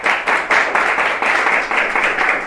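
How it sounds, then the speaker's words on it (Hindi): Audience applause for a teacher being honored at a school results ceremony: a dense, steady wash of many hands clapping with rhythmic swells, fairly loud and close, with no voices over it. "जोरदार तालियां उनके लिए।"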